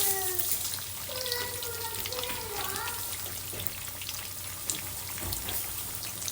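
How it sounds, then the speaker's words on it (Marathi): Kothimbir vadi, coriander fritters, fry in oil over a full flame with a continuous bubbling sizzle, while a faint voice runs underneath. "गॅसचा फ्लेम मी फुल केलेला आहे तर याला फ्राय करून घेते"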